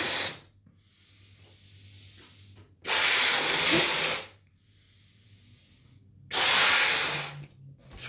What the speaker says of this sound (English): So you want to blow the balloon up.